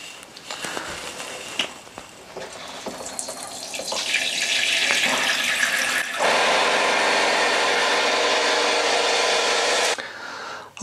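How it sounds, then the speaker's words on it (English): Bathroom shower turned on to drain the pipework of a Floe Induratec 868 water drainage system: a few handling clicks and knocks, then water rising into a loud, steady hiss that runs several seconds before cutting off abruptly. "And then when you're ready, you simply turn on the shower."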